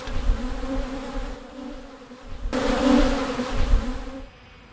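Honeybees buzz in a steady, close drone that swells and fades in loudness, with no voices over it.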